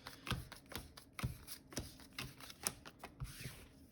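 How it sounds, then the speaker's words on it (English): Rapid, crisp riffling clicks of Marvel Battleworld game cards being shuffled, several quick bursts in a row, close up and fairly quiet with no talking. "I'm just going to shuffle these Battleworld stacks a couple times."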